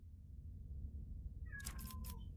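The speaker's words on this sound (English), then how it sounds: "Meow, that's you, kitty." A cat gives a short, faint meow or two after a quiet stretch of low background hum.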